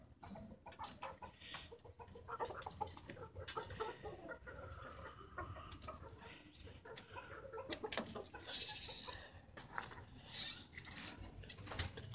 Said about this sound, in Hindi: आज फिर ये मुर्गियाँ तो खुल गई